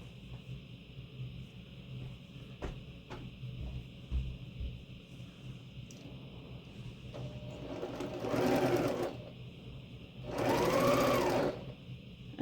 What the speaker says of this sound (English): now all we have to do is sew our rows together